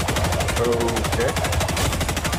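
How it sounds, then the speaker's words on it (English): Continuous rapid automatic gunfire in Helldivers 2 as a player shoots at bots, loud and close, a dense steady rattle of shots that runs throughout with no pause. "So I'm sitting here shooting these bots"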